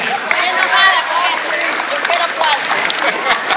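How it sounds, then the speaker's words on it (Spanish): A Dominican parade audience applauds in a burst of crowded clapping, with voices and cheering mixed through it. "Así que un aplauso para la junta directiva del desfile."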